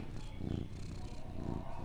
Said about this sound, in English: you start petting them like this, they start purring